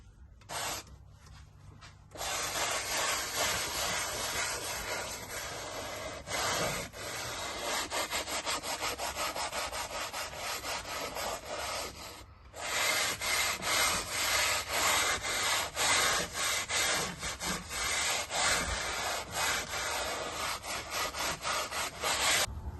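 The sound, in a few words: rubbing a visor clean with cleaner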